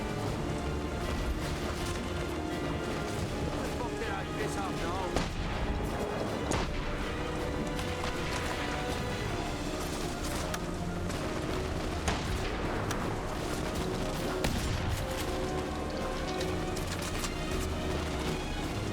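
Scoped rifle fire in the video game The Saboteur: loud, dense bangs and crashing impacts repeat throughout, layered over a continuous busy game soundscape.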